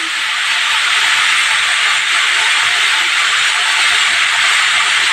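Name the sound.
turmeric added to hot oil with spices, sizzling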